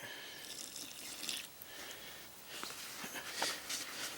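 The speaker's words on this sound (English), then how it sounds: "a couple of glugs of water" Water glugging from a container into a skimmer plaster mix, a faint, continuous splashing and trickling pour with a couple of surges, heard alone and close.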